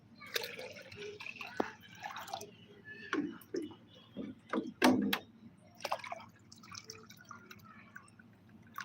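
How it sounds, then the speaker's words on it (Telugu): Three liters of plain water poured into a homemade potassium plant-fertilizer mixture, with irregular splashes and drips that come and go at moderate loudness, with no talking. "మూడు లీటర్ల నార్మల్ వాటర్ యాడ్ చేస్తున్నాను"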